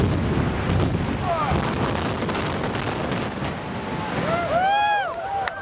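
A few distant booming explosions from a building demolition rumble over wind noise, with people talking and an excited whistle-like tone near the end.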